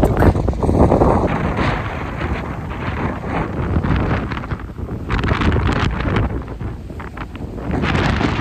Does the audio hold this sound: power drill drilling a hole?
no